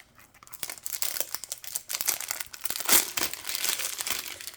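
Plastic wrapping is crinkled and torn off a Kryptik card game starter deck in a run of close, loud, irregular crackles and rips lasting several seconds, with no voices.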